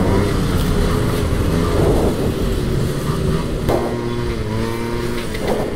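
A 1999 Honda Dio ZX scooter engine revs while being ridden, its buzzing note rising and falling through several throttle changes, loud and close with road and wind noise underneath.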